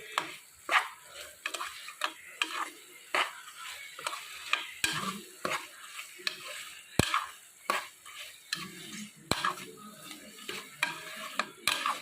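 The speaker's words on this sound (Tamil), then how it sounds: "நல்லா வதக்கி விடுவோம் இதிலையே புதினா கொத்தமல்லியும் போட்டு நல்லா வதக்கி விட்டுருவோம்" A spoon scrapes and stirs soya chunks with masala, mint and coriander in a sizzling pan, with repeated clinks against the metal over a steady frying hiss, close up and without speech.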